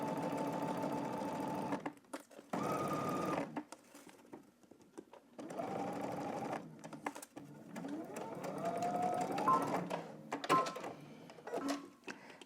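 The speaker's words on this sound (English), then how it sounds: "now we're gonna go ahead and stitch this using 5/8 of an inch seam allowance" A sewing machine stitches a 5/8 inch seam in several bursts of rapid mechanical whirring, stopping and restarting with short pauses between runs, close and fairly clear.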